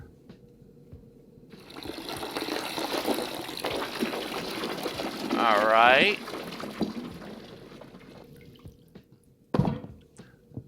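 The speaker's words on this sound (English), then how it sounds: "Let's transfer to our fermentation container." Cooled wort pouring into a fermentation container for home-brewed ale, a steady splashing gush building for several seconds with a brief clatter near the end, while a voice speaks briefly.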